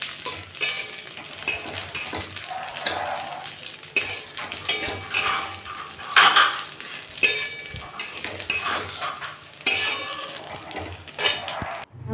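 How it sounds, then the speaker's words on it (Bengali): Vermicelli frying in white cooking oil in a wok, a steady close sizzle broken by repeated scraping stirs and light clinks of a utensil against the pan, with no talking. "এবার সিমুইটা ঢেলে দিয়েছি।"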